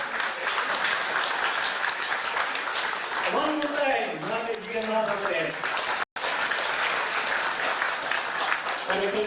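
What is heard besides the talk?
applause at a wedding anniversary celebration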